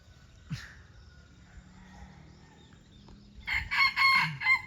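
A rooster perched on a post crows once near the end, loud and close, after quiet farmyard background with a soft earlier bird call.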